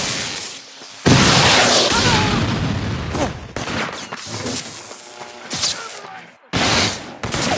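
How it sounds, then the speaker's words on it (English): A grenade blast and heavy gunfire roar through a firefight in the Infamous 2 video game, with loud repeated bursts and booms cutting in and out across the whole stretch, under a faint voice. "Hit him with the grenade!"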